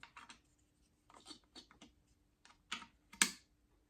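A thrifted decor item makes a string of short, light clicks and taps in uneven bursts, close by and fairly quiet, with no talking.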